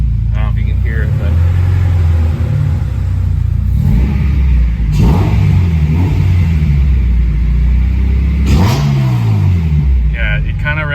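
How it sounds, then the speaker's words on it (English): A naturally aspirated Honda engine needing a tune revs hard in repeated surges, the pitch climbing and dropping between bursts, like a sport bike; loud and close, with a voice faintly underneath. "it kind of revs like a sport bike"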